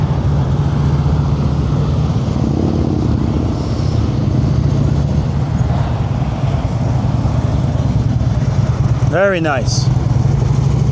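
Harley-Davidson Street Glide rolling at slow speed during a riding-skills practice session, a steady low engine rumble throughout with a person briefly talking over it.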